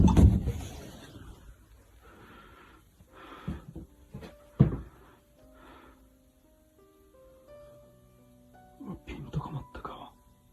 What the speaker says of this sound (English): At first, there could be heard a sliding door sound from one of the rooms